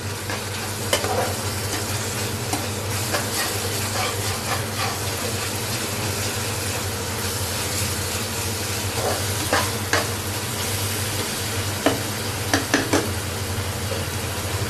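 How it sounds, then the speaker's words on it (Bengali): Spice masala sizzles and fries in a pan for a chicken curry while a utensil stirs and scrapes it, a constant loud hiss with scattered clinks and scrapes, no talking. "তো মশলাটা এখন প্রায় হয়ে আসছে, তো আরেকটু ভাজা ভাজা করতে হবে।"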